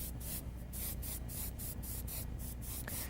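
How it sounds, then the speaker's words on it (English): Airbrush spraying yellow paint over white, a close steady hiss pulsing in short regular bursts, roughly a dozen passes over three seconds, with no talking. "Now I'm deadening that white just a little bit by spraying that same yellow over top of it"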